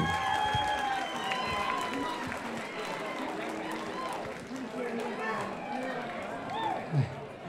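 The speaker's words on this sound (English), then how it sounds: "How about one more big round of applause for Tyler Beckley, too?" Fight-night crowd at an MMA cage event applauding and cheering after the main event, a broad continuous roar of clapping and voices with an announcer's amplified voice speaking over it.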